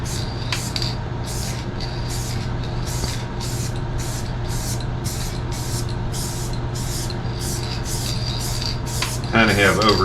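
A spray gun lays clear coat on a car panel during a rust repair in a run of a dozen or so short, regular hissing bursts close up over a low hum, with a voice at the end.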